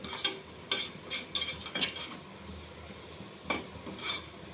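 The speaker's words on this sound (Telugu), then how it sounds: "చక్కగా కలిపేద్దాం." A spoon scrapes and stirs raw prawn curry in a pan, giving repeated bursts of scraping and clinking against the metal with a faint sizzle between strokes, close and moderately loud, with no talking.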